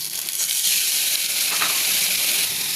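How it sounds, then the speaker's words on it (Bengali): A little water hits a hot pan of frying turmeric, chili, coriander and roasted cumin for a tilapia fish curry, giving a loud, bright, continuous hissing sizzle with no talk. "এবার দিয়ে দেবো অল্প করে পানি,"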